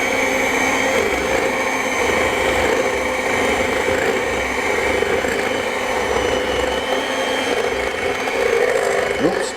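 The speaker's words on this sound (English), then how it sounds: "I'm going to ask you to get your beaters, put them on low speed" Electric hand mixer beaters whirring on low speed through chocolate fondant, a steady continuous motor drone with a faint rattling edge, close and loud with no pauses.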